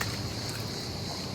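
A tour boat's steady engine drone at sea, mixed with wind and water noise, continuous and fairly loud throughout.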